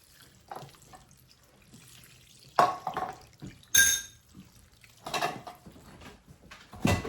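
Rich chicken broth made from chicken thighs is poured into cornbread dressing in a home kitchen, giving short, close liquid splashes and trickles in several separate bursts.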